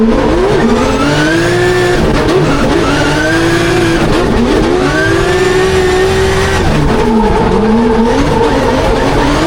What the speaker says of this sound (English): As Jack Shanahan now locks up the handbrake.